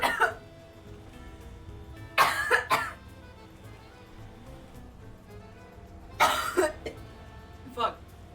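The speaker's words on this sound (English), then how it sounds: "my coughing fit was directly into the microphone" Several harsh coughs burst directly into a close microphone: one cluster of coughs, a pause, a second cluster, then a single cough. A low background hum fills the gaps, and no one speaks.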